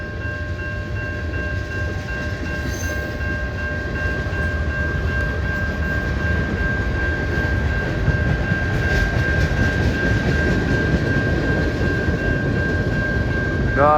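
A CN freight train of boxcars and a run of tank cars rolls past steadily, a continuous loud rumble of wheels and cars with a sustained whine throughout and no talk.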